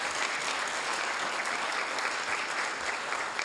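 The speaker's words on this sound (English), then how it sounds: "let's give all of our staff a big round of applause" An audience at a city council meeting gives a steady, sustained round of applause for staff, with dense clapping that stays even throughout the few seconds.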